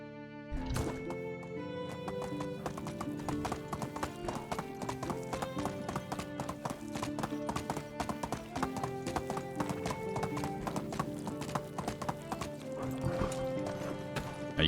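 Horse hooves clip-clop in a steady rhythm throughout a ride in the medieval game Medieval Dynasty, close and continuous over a bed of game music.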